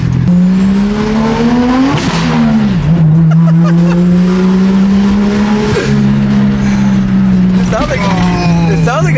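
Untuned Toyota 1JZ VVT-i engine revving in a car, loud and close, with repeated throttle blips rising and falling over a steady rumbling idle; a few people talk over it.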